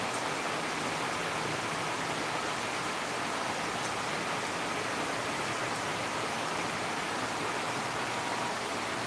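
Heavy rain pours down in Guwahati, a dense, continuous roaring hiss that stays loud and even throughout, with no pauses or voices.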